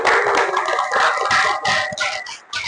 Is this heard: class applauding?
yes